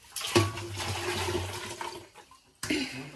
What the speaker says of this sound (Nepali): पानी खनाउँछु।